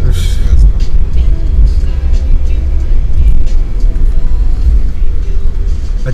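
A Mercedes G63 AMG under way gives off a loud, deep engine roar heard from inside, rumbling steadily and heavily the whole time with slight surges in level.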